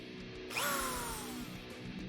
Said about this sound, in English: Here I have to drill the hole for the input jack.